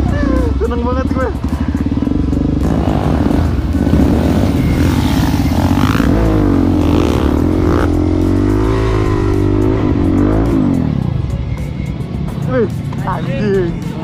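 A Suzuki DR-Z400SM supermoto motorcycle engine revs loudly and steadily up close, its pitch rising and falling through throttle blips while voices talk over the engine noise.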